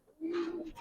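A young pigeon, one of a pair of Giribaz or colouring pigeons, gives a single short, low coo, close and fairly quiet, with faint background murmur around it.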